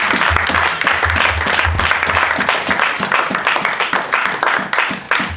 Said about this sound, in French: Clap for Jesus. Applaudissez.